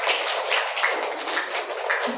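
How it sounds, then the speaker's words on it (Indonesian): A primary-school class claps hands together for the children in a classroom lesson, a dense, steady patter of many small hands lasting about two seconds, fairly close and without talk. "Tepuk tangan dulu untuk anak-anak."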